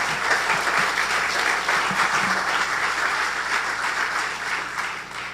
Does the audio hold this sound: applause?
yes